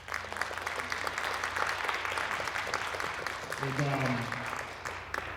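An audience at an MLK Day gathering gives Dr. Bellinger a sustained round of applause, the clapping dense and steady while a voice speaks over it.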